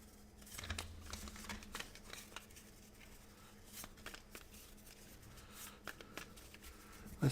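Cards from the Sanctuary board game by Feuerland are shuffled close by, giving quiet papery riffles and soft crisp flicks in short irregular bursts.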